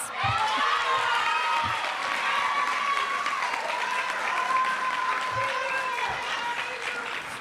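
A large crowd at a graduation ceremony applauds steadily throughout, with scattered cheers and voices mixed into the dense clapping.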